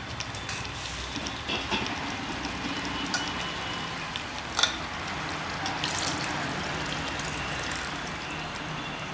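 Water is poured from a glass into a pot of mutton cooking on the stove, giving a steady splashing wash with a faint clatter in the middle.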